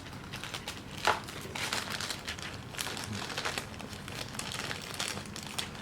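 Scissors cutting open plastic packaging on a boxed One Piece anime figure, heard as close, quiet crinkling and snipping crackles of plastic film throughout, with no talking.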